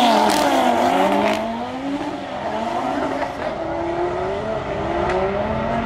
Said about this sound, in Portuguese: Esses carros tração nas quatro aí, realmente aqui embaixo lança de uma forma sensacional.